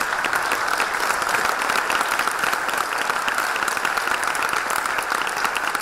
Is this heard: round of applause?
yes